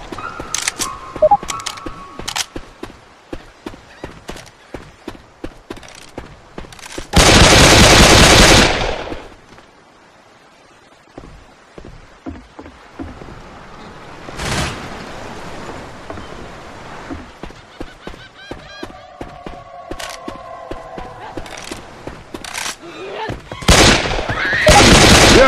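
Rapid bursts of automatic gunfire from Left 4 Dead 2 gameplay crackle close and loud, alternating with single shots and two long dense roars of fire, broken by a quieter lull in the middle.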